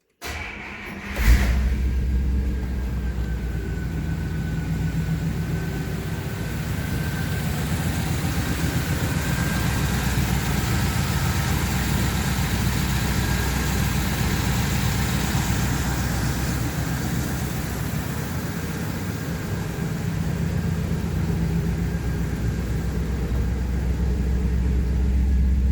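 A 1956 Buick engine with Smithy's exhaust idles steadily, a close, continuous low rumble that holds even throughout, with no talking.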